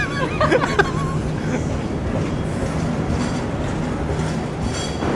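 Steady rumble and rolling clatter of the KA Mutiara passenger train with a panoramic carriage, heard close and continuous, with a brief squeal of wheels early on.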